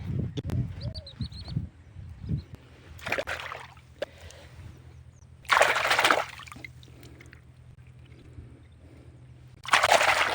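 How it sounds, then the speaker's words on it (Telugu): Outdoors on a farm with birds chirping, water splashes in three separate bursts, close by, as hands are washed, between quieter stretches. "చెయ్యిని శుభ్రం చేసుకుందాం"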